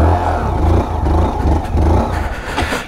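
A Honda Monkey 125 motorcycle skids off-road, its engine roaring loud and close with a rough, fluttering exhaust note and clattering over a few seconds.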